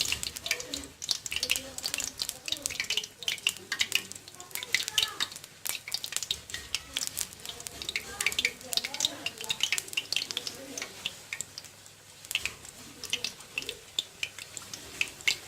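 Spoonfuls of wheat-flour pakora batter sizzling and crackling in hot frying oil, a steady dense hiss with bubbling and occasional stirring clinks, close and continuous with no talk.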